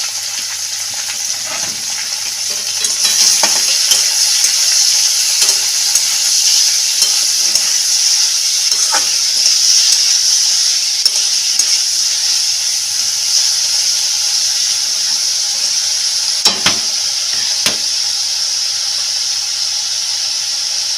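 Steady sizzling of potatoes and eggplant with turmeric and salt frying in a pan, with intermittent scraping and clicks of a spoon stirring, continuous and close, no talking.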